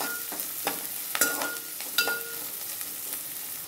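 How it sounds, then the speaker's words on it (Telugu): Okra and green chillies fry in a pan of oil with a continuous soft crackle, punctuated by a few distinct scrapes and clinks of stirring, without speech. "బెండకాయలు చక్కగా ఫ్రై అయిపోయండి"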